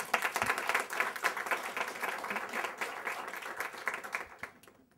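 An audience applauding at a university media announcement, a steady patter of many hands clapping indoors that gradually fades out.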